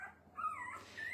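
Two young puppies, both female, whine indoors in a home: a soft, close, high-pitched whimper that rises and wavers, with a second thin yelp-like cry near the end and no talking.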